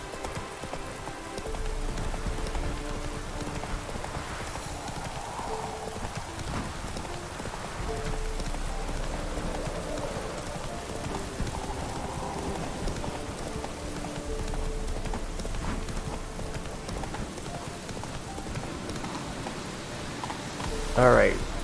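Roach, a horse in The Witcher 3 video game, trotting through rain: a steady patter of rainfall under a rhythmic clip-clop of hooves, sustained throughout, with a person talking over it at moments.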